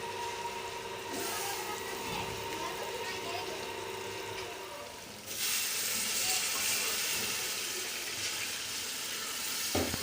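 Beef pulao masala sizzles and fries in a pot, then a louder steady hiss and rush of water being added takes over midway, continuing close and strong to the end.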